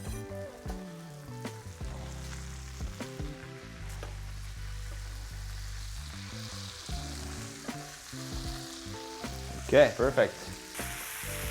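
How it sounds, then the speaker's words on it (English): Onions sizzle as they drop into a pan with crisping bacon for tartiflette, making a bright frying hiss under stirring and a brief spoken remark. "it's time to add our onions in there. Boom, onions can go in."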